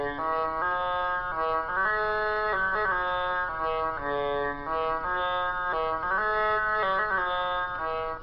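A buzzy, reedy Stylophone pocket electronic organ plays a repeating melody, its tone wavering and shifting in color as a hand cups and shapes over the speaker grill.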